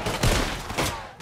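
Dual pistols fire in Red Dead Redemption 2 gameplay, with a loud burst of gunshots near the start and another shot about half a second later, followed by a fainter report.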